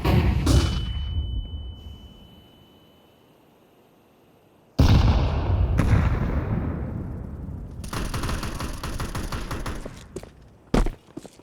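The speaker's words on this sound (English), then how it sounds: "I'm throwing the flashbang." A flashbang grenade bursts with a sudden loud bang and a ringing whine in a tactical shooter match, followed by a stretch of near silence, then a second heavy blast and bursts of rapid gunfire close by.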